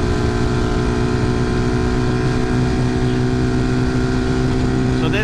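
A Vitacci Titan 250 motorcycle engine held at high speed in sixth gear, a loud, steady drone with constant wind roar throughout.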